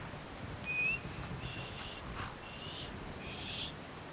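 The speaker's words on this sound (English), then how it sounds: "Practice horse whistle." A horse-calling whistle in the Skyrim video game, a single short rising whistle followed by faint tonal game sounds over a quiet background.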